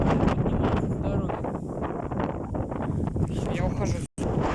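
Very strong wind roars across an open field, a loud continuous buffeting rush hitting the microphone, with a person talking over it.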